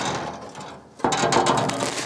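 A ratchet wrench clicks steadily while tightening the bolts on new side steps for an old rusty truck, a close continuous mechanical ratcheting that grows louder partway through.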